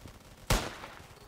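A single sharp gunshot in the Roblox shooter Polyguns, one sudden loud crack with a short decaying tail against a quiet background.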